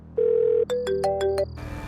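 A phone rings on an outgoing call in a Hindi TV drama, with a single sustained electronic tone followed by a rapid burst of melodic ringtone notes, clear and close, with no talk over it.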